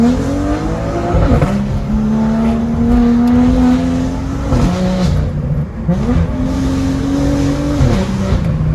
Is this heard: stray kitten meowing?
no